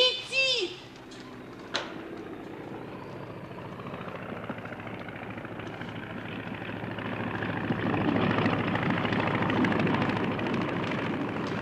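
Aircraft approaching over a remote winter station, a steady rumbling drone that grows gradually louder, with voices heard over it early on.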